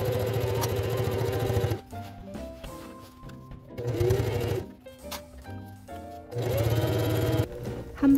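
A sewing machine stitches a shirt collar in three rapid bursts of steady rattling, separated by short pauses with quieter handling sounds.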